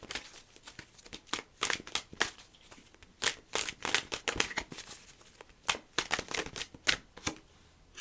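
Tarot cards being shuffled and drawn for a five-card reading, soft papery riffles and crisp snaps in irregular bursts, close and quiet with no talking.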